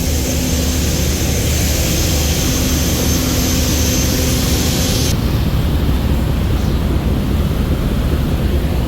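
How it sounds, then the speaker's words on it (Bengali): Twin-engine river passenger launch, one Hanshin and one Yanmar engine, driving its propellers on a river: a loud, steady, close engine roar with churning propeller wash and rushing water, continuous throughout with no talk. "এই হচ্ছে অ্যাডভেঞ্চার নয় লঞ্চের প্রপলর থ্রাস্ট"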